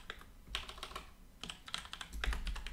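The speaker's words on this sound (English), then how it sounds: "So we will type in license plate widget" Close typing on a computer keyboard, quick runs of light key clicks in several short bursts with brief pauses between them.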